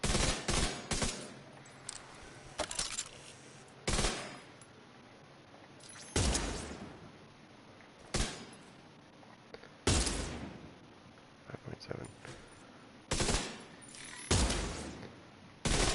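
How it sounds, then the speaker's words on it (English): Sniper rifle shots in The Division 2 crack out one at a time, each a sharp loud report with a short decay, spaced a second or two apart over a quiet background. "Let's try this with my sniper rifle."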